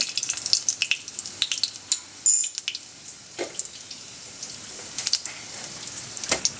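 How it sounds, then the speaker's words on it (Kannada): Half a spoon of cumin seeds sizzling in hot oil for tempering up close, a steady crackling hiss with scattered sharp pops. "ಒಂದು ಅರ್ಧ ಸ್ಪೂನು ಜೀರಿಗೆ ಹಾಕಿದ್ದೀನಿ ಒಗ್ಗರಣೆಗೆ"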